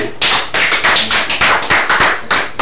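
Applause at a sports ceremony where a football defender receives a best-defender trophy for La Liga: dense, steady clapping with rhythmic pulses, loud and close, with no talking over it.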